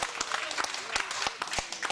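Theatre audience applauding at a live stage show, scattered sharp claps over a murmuring crowd, with a voice talking through it.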